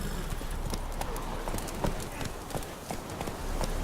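Horse hooves gallop in The Witcher 3: a fast, steady stream of clopping beats, close and continuous, with a low voice murmuring underneath.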